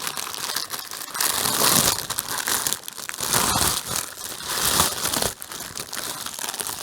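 Plastic packaging from a diamond painting kit crinkled and crushed by hand, with loud, irregular rustling bursts close to the microphone and no speech.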